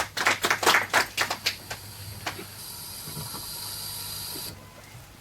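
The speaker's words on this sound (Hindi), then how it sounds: "एक बार जोरदार ताली दोनों के लिए ही।" A live audience at the Genius Kaun Season 3 Junior quiz show breaks into a short burst of brisk clapping for about a second and a half, then it dies into a steady background hiss.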